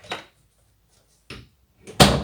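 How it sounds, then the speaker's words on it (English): A door is pulled shut with a dog's leash handle hooked over the doorknob: a couple of soft knocks and rattles, then a sharper close, near and brief, with no talking. "and then we close the door"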